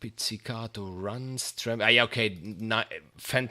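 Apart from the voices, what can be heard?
No distinct noise like a dog, phone or traffic.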